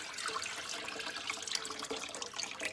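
Tap water runs steadily into a pot for dumpling noodle soup, a continuous close hiss and splash with no talking.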